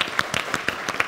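Applause from a studio audience at a year-end talk-show gathering, a light, brief spatter of claps with a few sharper hits, moderately close and without speech.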